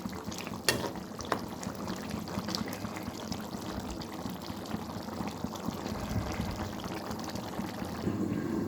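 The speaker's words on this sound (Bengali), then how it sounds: "এখন সব কিছু একসাথে সিদ্ধ হয়ে যাবে" A pot of beef liver curry with potatoes simmers on the stove, giving a steady, close bubbling and sizzling wash with a few brief clinks near the start.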